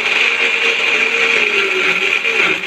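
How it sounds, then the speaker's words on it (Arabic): An electric kitchen blender whirring steadily at high speed while blending pomegranate for homemade pomegranate molasses, loud, close and continuous with no talking. "نبدا بقى ايه نحط الخلاط هنا عشان ممكن ينزل معانا ولا حاجه"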